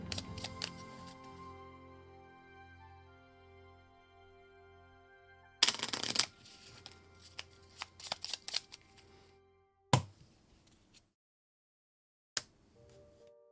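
Cards shuffled for a board game of Nocturne, played live: a long riffling burst, then brief sharp bursts of bridging and squaring the deck, with quiet gaps and no talk.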